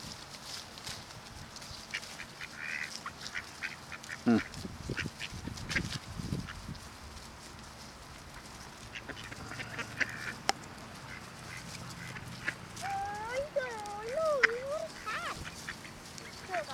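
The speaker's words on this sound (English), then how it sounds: "Look at all the ducks." Ducks quack repeatedly at a pond while being fed, in scattered calls near and far, and people chat over the birds throughout.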